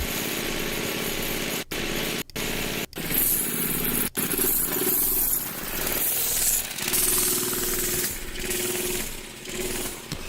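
An old-school minibike engine runs loud and close, a harsh buzzing drone broken by several abrupt dropouts early on, then holding steady with slight rises and dips in pitch.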